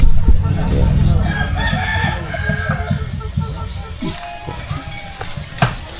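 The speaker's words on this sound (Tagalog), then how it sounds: "Ngayon, sisimulan na natin ang pagpakain ng manok ni Idol Kabungot." Rooster crowing and chickens clucking during feeding time at a rural hut, with a crow rising over steady low farmyard clucks and scuffling throughout, fairly close.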